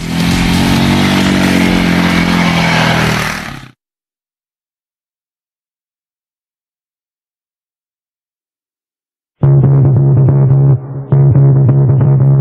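TGB Target 550 quad engine revving loudly while riding, a close raw roar that cuts off into silence, then returns as a lower, steadier drone with a brief dip.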